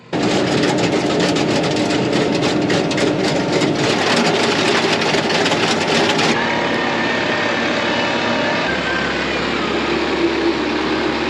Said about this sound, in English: Do you see Pop Pop driving the tractor?